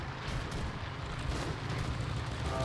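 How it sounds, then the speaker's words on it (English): Mortar rounds exploding in the WWII shooter Enlisted during a Moscow battle, a dense, continuous rumble of heavy booms and blasts rolling together without a break. "Those are mortars."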